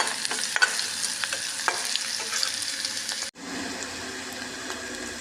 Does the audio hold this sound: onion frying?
yes